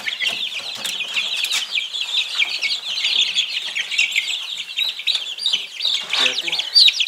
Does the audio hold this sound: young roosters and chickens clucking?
yes